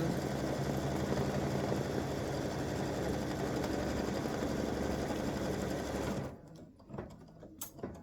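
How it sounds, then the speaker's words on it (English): Embroidery machine stitching applique fabric for a shoe shape, a rapid steady mechanical whir and needle chatter that stops abruptly near the end, followed by a few faint handling sounds. "I'll put my fabric down and let it stitch one shoe"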